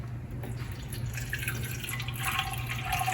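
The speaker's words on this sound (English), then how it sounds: "I take my solution from inside the bottle and I pour it in the tank" Cleaning solution poured from a bottle into the water tank of a Safety First cool mist humidifier, a close, steady trickling and dripping of liquid under a low background hum, with no talking.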